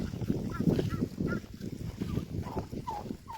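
Turkeys gobbling and calling in a cluster, repeated bursts of rough, throaty clucks with a few higher yelps, fairly close and continuous.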